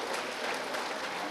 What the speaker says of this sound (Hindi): एक बार जरा ताली बजा दे